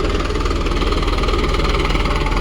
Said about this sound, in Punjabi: ਬਸ ਐਦਾਂ ਟਰੈਕਟਰ ਘੁਮਾਈ ਜਾਣਾ ਇਹਦੇ ਪਰ